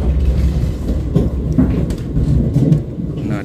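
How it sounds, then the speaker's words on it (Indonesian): The Logawa passenger train pulls into Gombong station with a heavy, continuous low rumble and rolling noise, loud and close, and no voices over it. "Perjalanan kereta api Logawa merapat stasiun Gombong."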